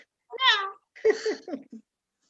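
A domestic cat meows clearly up close: one drawn-out meow, then a short pause and a series of shorter broken meows, alone with no talk.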